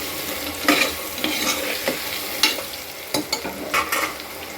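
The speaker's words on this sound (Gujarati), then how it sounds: "હવે આપણે 1 ચમચી હળદર નાખશું। સારી રીતે મિક્સ કરી લઈશું" Spices and turmeric being stirred into a hot pot for masala khichdi: steady sizzling with scraping clicks and light knocks of a spoon at irregular intervals, close by.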